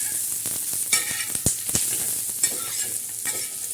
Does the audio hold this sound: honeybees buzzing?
no